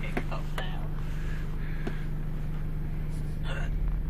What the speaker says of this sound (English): Oh, hiccup now.